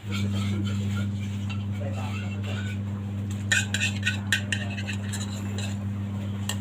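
A utensil stirring Udon Thani-style rice noodle soup thickened with tapioca and glutinous rice flour in a pot, with soft scraping and clinks over a steady low hum, under faint talk.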